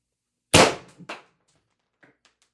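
A single sharp, close crack from a Pistelle X-68 CO2 airsoft pistol firing 10g ammo, followed by a brief metallic echo and faint small clicks in otherwise quiet surroundings.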